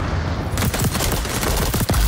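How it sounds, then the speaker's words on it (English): MP7 submachine gun firing in the game XDefiant: a fast, loud burst of rapid shots that starts after a brief lead-in and continues steadily to the end. "Oh, the recoil on this gun is so bad. This might be the worst MP7 I've ever seen."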